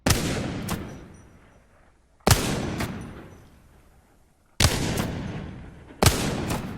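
Gunfire in Apex Legends: spaced heavy shots arriving in pairs, each sharp crack trailing into a long fading reverberant tail, loud and close with no talk over them.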